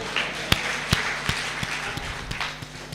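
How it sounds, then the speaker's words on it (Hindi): An audience at a Hindi kavi sammelan poetry gathering claps in a steady, evenly spaced rhythm, each sharp clap standing out over a soft background hum of the hall. "इंदू जी के लिए भी तालियां बजा दो"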